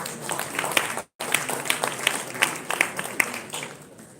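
A dinner audience at a business event applauds a guest, clapping scattered and fairly faint, with a brief dropout near the start before it resumes and gradually thins.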